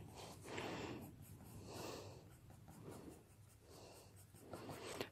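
Faber-Castell Polychromos colored pencil hatching coarsely on paper, soft rhythmic scratchy strokes in quick repeated back-and-forth sweeps, quiet and close with no talking.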